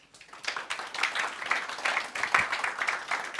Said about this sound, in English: Please welcome her with a loud round of applause